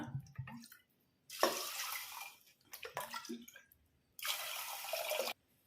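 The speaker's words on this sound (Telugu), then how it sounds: "దీంతో ఇప్పుడు వాటర్ కూడా అయితే వేస్తున్నాను" Water pours onto moong dal and toor dal in two steady bursts of a second or so each, with brief clinks and handling noises in between; close and moderately loud.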